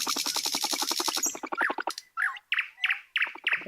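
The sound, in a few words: thrush nightingale song recording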